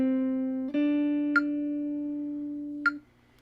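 An electric guitar plays a single sustained, quiet note that bends up a full step and rings on, with two light picking clicks later in the phrase.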